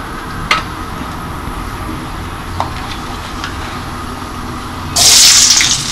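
Chopped onion sizzling in hot mustard oil with bay leaves, a steady, moderate hiss with a few faint clicks and a sudden louder burst of sputtering near the end.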